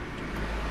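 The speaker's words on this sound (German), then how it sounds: "Lamborghini Gallardo Superleggera." A Lamborghini Gallardo Superleggera goes by on a Munich street, heard as a brief, steady broadband engine and road roar.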